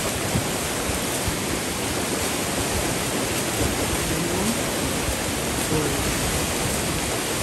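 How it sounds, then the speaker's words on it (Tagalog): Fast typhoon floodwater rushing nearby through a farm, a loud, unbroken roar of turbulent flow that stays constant from start to finish. "Tumataas na talaga. Ang bilis ng tubig."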